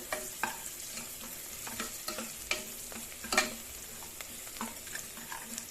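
Onions for mutton biryani fry in a pan with a quiet, constant sizzle, broken by scattered scrapes and taps of a stirring utensil.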